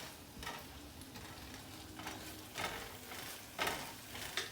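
Rice fries in a pan over medium heat for Mexican rice: a quiet, continuous sizzle broken by periodic scraping stir strokes.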